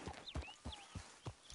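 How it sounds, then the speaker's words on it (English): A horse in the video game Red Dead Redemption 2 clip-clops along with steady, evenly spaced hoofbeats, fairly quiet, with faint high snorting or whinny-like tones in between. "But that's a horse. That is indeed a horse."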